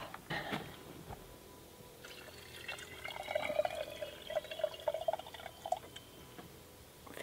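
Water runs from a tap into a container being filled to soak dry canoe leathers at a remote off-grid property, a faint continuous trickle with soft splashing and dripping, close by and with no voices.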